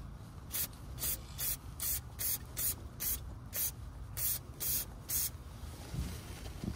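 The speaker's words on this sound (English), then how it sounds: "we're just going to spray a little brake cleaner up there" Repeated short bursts of brake cleaner aerosol hiss in quick succession during a Porsche Macan GTS 2.9L V6 oil change, about a dozen pulses close to the microphone, then stop.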